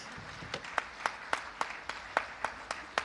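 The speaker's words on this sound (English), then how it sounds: "Can we clap for our boy children?" Sparse, faint clapping from a small audience at a Kenyan Canadian women's celebration in Brampton, roughly evenly spaced single claps in a slow rhythm, heard at a distance in a quiet room.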